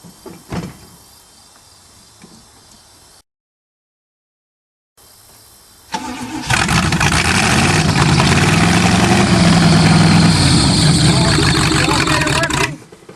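An old rusty Chevrolet engine is cold started: faint clunks and a short silence, then a loud, close grinding crank and rough engine roar that runs for several seconds before cutting off.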